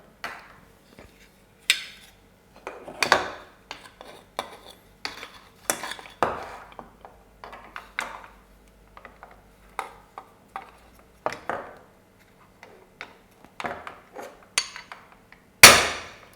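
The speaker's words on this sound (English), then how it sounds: "So to complete it, I'll use a hammer." Repeated metallic hammer strikes at irregular intervals, sharp ringing clanks separated by short pauses, with a loud final blow, as an old bush is hammered out of an airbag retaining frame.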